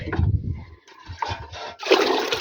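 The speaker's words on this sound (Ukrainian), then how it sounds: "Набираю дощову воду" Rainwater splashes and trickles into a container, starting in bursts and then pouring steadily and loudly toward the end.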